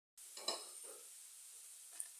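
Onion and garlic frying in a pan, a steady gentle sizzle with a couple of soft stirring scrapes, alone and fairly quiet.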